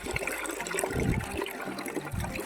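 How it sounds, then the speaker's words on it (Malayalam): Sardines being washed by hand in a bowl of salted water for a Kerala fish pickle, sloshing and splashing continuously and fairly close, with brief louder gushes, no talk. "നമുക്കപ്പോൾ ഇത് നന്നായിട്ട് വെള്ളത്തിലൊരു 4-6 വട്ടം ആ ചെളി പോകുന്നത് വരെ കഴുകി എടുക്കാം"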